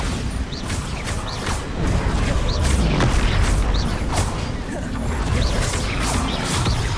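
Spell explosions and crashing impacts fill a chaotic Hogwarts Legacy duel, with the Bombarda blast among them, heavy booms layered over rumbling combat noise and sharp whooshing effects, loud and continuous throughout.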